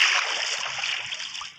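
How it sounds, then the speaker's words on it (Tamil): Water splashes and rushes steadily close by as someone bathes outdoors, a continuous watery spray with no talk. "தண்ணியில் குளிப்போம்."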